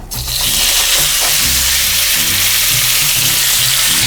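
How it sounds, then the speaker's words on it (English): Steak sizzles loudly and continuously in a hot pan, with a dense, close hiss that stays steady throughout and faint low bubbling underneath. "If it starts to sizzle, then we're good."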